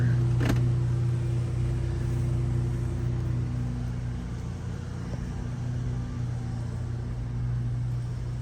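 A car rolls slowly through Pine Forest Cemetery in Mount Dora, Florida, its steady low engine rumble and tire noise continuous and close throughout, with no talking.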